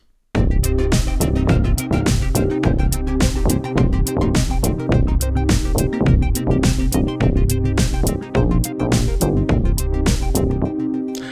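Electronic tracker music from Renoise on a Raspberry Pi plays loud and dense, with a sustained pad, sampled instruments, steady drum hits and a bass line in a regular beat throughout, without any voices.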